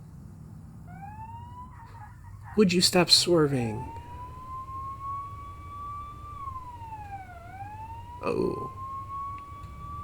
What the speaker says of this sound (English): Oh, I hear a siren.